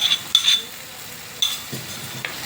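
A spoon stirs curd and chilies in a hot pan over the stove: repeated scraping strokes and soft clinks against the metal over a low sizzle, close by with no talking.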